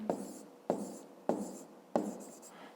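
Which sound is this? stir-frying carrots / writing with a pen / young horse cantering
writing with a pen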